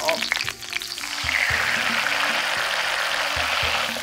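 Meatballs sizzle and fry in a hot pan, a loud steady crackling hiss with a few knocks of the pan or utensil in the first second.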